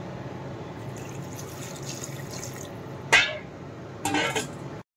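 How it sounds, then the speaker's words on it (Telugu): Water is poured into a pot of mango rasam mixed with salt, chilli and tamarind, heard as two short, close splashing pours over a quiet background. "తగినంత వాటర్ పోసుకుందాం"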